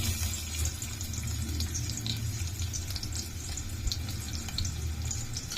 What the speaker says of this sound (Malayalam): നമുക്ക് എണ്ണ ഒഴിക്കാം ആവശ്യത്തിന്.